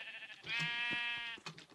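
A sheep in the Minecraft video game lets out a single wavering bleat, close and clear, with faint clicks and game noise around it.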